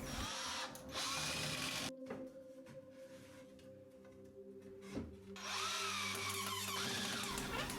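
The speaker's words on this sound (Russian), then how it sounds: "Также буду соединять на косой шуруп." Power drill driving angled screws into a wooden shelf crosspiece while joining two racks: a long loud whirring drive, a pause with quieter shuffling, then a second sustained burst, no talk.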